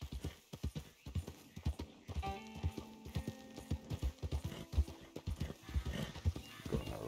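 Horse hooves clip-clop at a steady trotting rhythm in Red Dead Redemption 2, close and clear, with a brief whinny and no talking over the riding.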